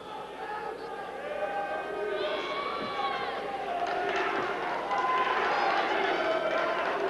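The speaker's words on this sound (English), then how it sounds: "There you see the crowd behind urging on Matt Hughes." A dense, roaring arena crowd cheers and shouts continuously at a 2000 World Extreme Fighting MMA bout, loud and swelling, with a commentator's voice running over it.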